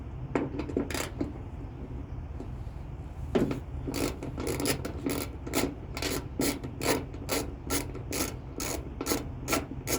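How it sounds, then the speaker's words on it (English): A tool turns out the top screw of a Toyota RAV4 (XA40) hood lift strut with rhythmic ratcheting clicks and rasps. A few sparse strokes come first, then a fast, steady run of close clicks. "Unscrew this first, the top screw first."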